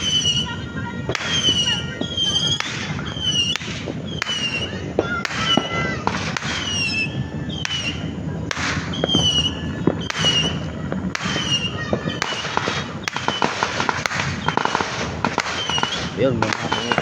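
New Year fireworks and firecrackers pop and crack in rapid, irregular bursts throughout, some sharp and near, others more distant, over a steady rumble, with people talking in the background.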